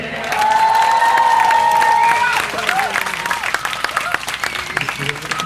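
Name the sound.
audience applause at a music festival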